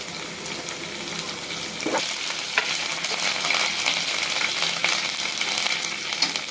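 Green chillies frying in a pan for a spicy chicken roast, a continuous crackling sizzle that grows a bit louder partway through, with faint scraping of stirring and no one talking.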